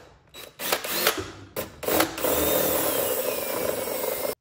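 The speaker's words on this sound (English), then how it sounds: "I'm going to drill out this pretty big right here so that way I can feed the wires through to the gauge now" Power drill boring a hole for gauge wiring in a C5 Corvette: a few short trigger bursts, then a sustained steady whine of the drill cutting through, close and fairly loud, stopping abruptly at the end.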